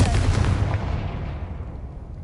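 A Confringo blasting spell in Hogwarts Legacy on PS5 bursts with a loud booming blast, its rumbling roar fading away over about two seconds.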